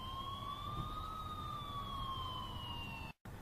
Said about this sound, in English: That's until I finally heard sirens in the distance.